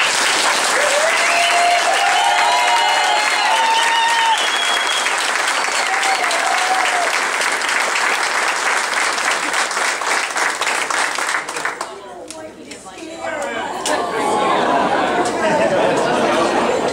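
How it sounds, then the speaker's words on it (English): A crowd at a memorial motorcycle run check presentation gives a long, loud round of applause with whoops and chatter mixed in, dipping briefly before clapping swells again. "Tell them this round of applause is for them if they can hear this"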